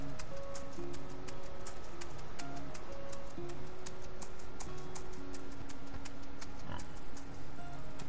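Pigs grunt and oink repeatedly in the game Farm Together, over a looping soundtrack with steady ticking, tonal chimes, and faint birdlike chirps throughout.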